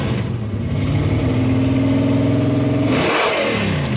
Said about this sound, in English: 1969 Dodge Charger Daytona.